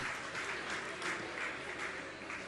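Steady applause from an assembled audience at a Jain monk's religious gathering, many hands clapping in a continuous, even wash heard from some distance.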